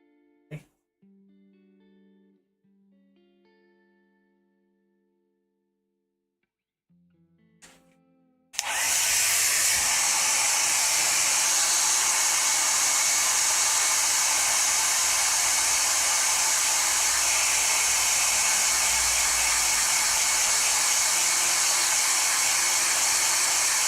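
A hair dryer blows to dry paint on a Dark Angels Nephilim Jetfighter miniature. It switches on with a sudden loud rush and then holds a steady, broad whoosh close by, after a few faint clicks and a quiet stretch.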